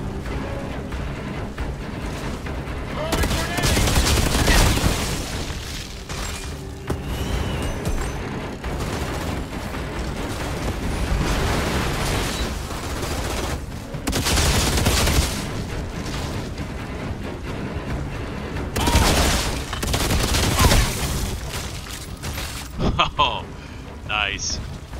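Bursts of heavy gunfire from a brutal gun in the video game Outriders, loud booming volleys recurring every few seconds over a continuous rumble of game noise and effects.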